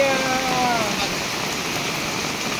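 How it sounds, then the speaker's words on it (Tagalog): Heavy rain, the first of the season, pours down steadily in a dense, continuous hiss, with a few faint tonal whistles drifting through early on. "Unang ulan, no? Malakas na ulan."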